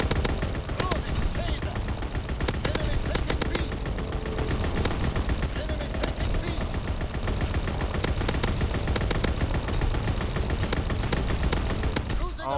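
Bren light machine gun firing in the video game Call of Duty WW2, dense bursts of rapid gunfire rattling almost continuously alongside other shots, with a player talking over the action.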